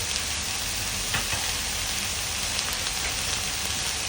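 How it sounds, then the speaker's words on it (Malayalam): Vegetables seasoned with oregano, rosemary and salt sauté in a hot pan, a steady close sizzle and hiss holding evenly throughout with occasional faint stirring scrapes. "ഒരു 5 മിനിറ്റ് സോട്ട് ചെയ്യുക"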